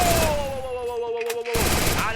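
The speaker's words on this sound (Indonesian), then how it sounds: "Ada tembakan dari MP40 melawan siapa di sana" MP40 submachine gun fire in a battle royale style video game, a dense burst of rapid shots with a brief gap before the firing resumes, loud and continuous.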